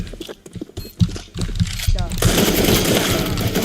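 Rapid automatic gunfire in a Counter-Strike match, loud bursts mixed with game sounds and a talking player, building into a dense continuous barrage near the end.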